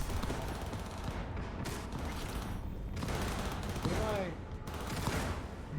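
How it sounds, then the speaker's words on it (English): Sustained gunfire from the crossfire of a Cyberpunk 2077 firefight, loud and dense bursts rolling over each other with near-constant shots, plus brief synthetic tonal effects partway through. "Getting caught in crossfire."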